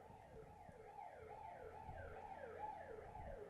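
A wailing siren rising and falling in a steady repeating sweep, heard faintly at a distance with low rumbling underneath.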